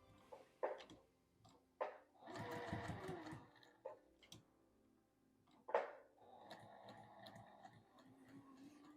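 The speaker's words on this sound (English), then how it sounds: "we will just start stitching. Top stitch." A sewing machine top stitching a quilt block, running in short bursts of rapid mechanical clatter between pauses and clicks, close and clear with no speech.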